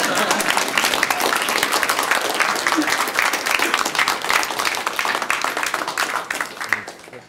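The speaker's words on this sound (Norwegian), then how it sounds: "Det bare å klappe." An audience at a talk claps steadily in sustained, dense applause that holds throughout and fades out right at the end.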